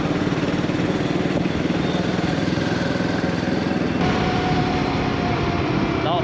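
Royal Enfield Himalayan 450 motorcycle ridden fast on full knobby competition tyres with a 49-tooth rear sprocket, giving a steady, loud engine drone mixed with wind roar throughout, no talking over it.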